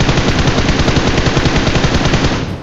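Gunfire from PUBG Mobile rattles in a loud, continuous automatic burst of rapid, evenly spaced shots, close and unbroken for nearly three seconds before tapering slightly.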